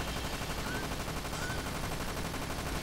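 Rapid automatic gunfire from the on-rails shooting section of the video game Dirge of Cerberus, a dense, continuous rattling barrage that fills the whole stretch at a faint overall level.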